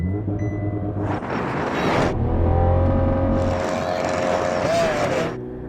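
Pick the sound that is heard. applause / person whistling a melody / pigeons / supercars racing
supercars racing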